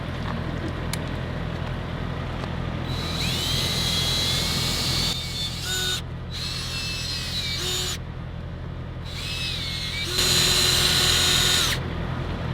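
Power drill working on semi-truck light restoration, whining in several high bursts with pauses between, loud and close over a steady low background hum, no talking.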